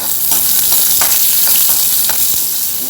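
Onions frying in hot oil in a pan while being stirred, a steady loud sizzle with soft scraping strokes of a spoon recurring about twice a second, no voices.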